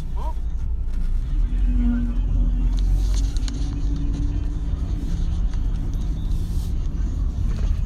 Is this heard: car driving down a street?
yes